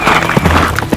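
A short horse sound effect: a loud whinny over quick clip-clopping hooves, lasting about a second.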